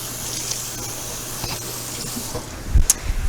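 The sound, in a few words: washing hands under running tap water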